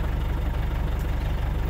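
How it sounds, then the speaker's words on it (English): An 8x8 Argo amphibious vehicle's engine idles while warming up, a steady close rumble with an even, rapid pulsing beat throughout, no voices over it. "I'm letting the engine warm up at the moment"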